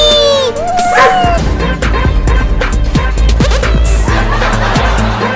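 A dog barks amid loud, busy background noise with overlapping voices and laughter-like sounds.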